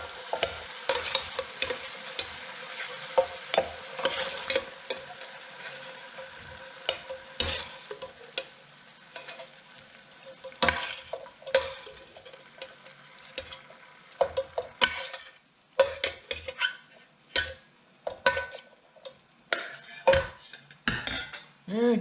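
Sausages are lifted out of a frying pan, with quiet sizzling broken by clattering utensil scrapes and metallic knocks against the pan that grow busier and louder toward the end, with no talking.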